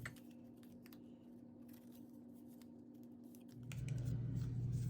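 Scissors snip through paper to cut out small paper tickets. The cuts are quiet, close and crisp, followed by a louder rustling handling sound near the end.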